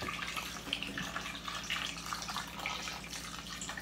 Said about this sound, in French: maintenant on met notre eau.